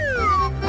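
A cat gives a single clear, close meow with a falling, drawn-out pitch, heard on its own without talk.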